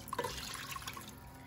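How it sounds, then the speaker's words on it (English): A cup of water poured into a cooking pan gives a short, faint splash and trickle, quick liquid drips over a quiet background. "So pour this in there, the cup of water in the pan."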